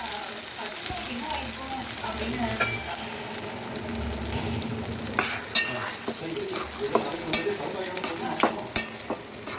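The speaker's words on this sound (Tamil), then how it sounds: "இப்போ கடுகு பொரிஞ்சிடுச்சு." Mustard seeds popping in hot oil for a tempering, a close continuous sizzle with scattered sharp crackles and pops that grow busier in the second half, with a voice faintly in the background.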